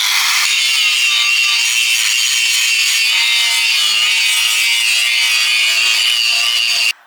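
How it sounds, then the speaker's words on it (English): Metal on a tri-axle trailer being cleaned before welding, a loud continuous abrasive grinding or rubbing hiss that runs steadily without pause until stopping abruptly at the end. "So I'm just prepping the metal now, just before welding. Just get it nice and clean."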